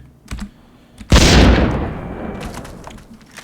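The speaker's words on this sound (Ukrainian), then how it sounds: "З ракетниці прямо потрапив мені." A flare gun fires in the video game BloodRayne, one sharp loud blast that decays into a rumbling tail, with a few softer clicks before it.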